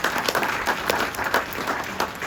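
An audience claps steadily for Jim Haviland at a celebration event, a dense, fairly loud wash of many hands with no talking over it.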